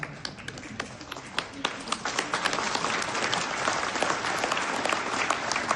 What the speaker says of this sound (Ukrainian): Ветерани гучніше аплодуйте, будь ласка.